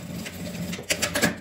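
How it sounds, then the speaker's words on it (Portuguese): A sewing machine stitching a fabric kitchen apron, its soft mechanical whir rising into several quick rattling bursts of stitching near the end, close and alone. "Continuo costurando ele aqui mais um pouquinho"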